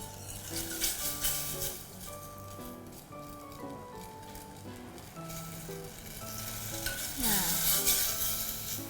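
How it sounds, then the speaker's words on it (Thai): Fresh coconut milk cooked with oil in a pan for Thai green chicken curry, coming to a boil with a constant soft sizzle and bubbling, heard under background music. "หัวกะทิเริ่มเดือดแล้วนะคะ"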